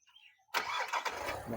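A 2022 Kia Carens automatic with a petrol engine cranks and catches after about half a second of near silence, then runs on at a steady, smooth idle, close by.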